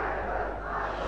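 A big rally crowd shouts a slogan back in chorus to a leader's call, a loud, steady roar of many voices blended together throughout.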